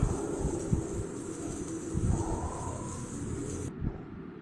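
Cauliflower and potato frying in a pan with chopped onion and tomato, giving a steady, close sizzling hiss that runs without a break and stops abruptly near the end.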